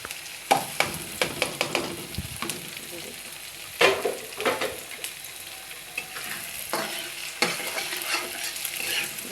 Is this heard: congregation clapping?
no